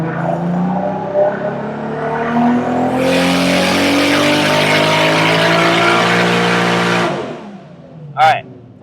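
A BMW E46 M3 engine roars through a full-throttle dyno pull, its pitch climbing steadily for several seconds before the throttle cuts and it drops back, followed by a brief high whine.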